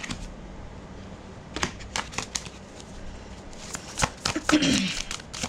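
Tarot cards are shuffled close by in a run of quick riffling bursts and crisp snaps, with a denser flurry near the end and a voice talking faintly underneath.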